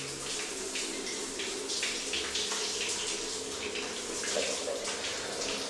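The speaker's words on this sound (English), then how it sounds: "There you go, literally a 1 minute shower." Outdoor shower water pours steadily and loudly on a Nepali farm, a constant hissing splash with no pauses for the whole stretch.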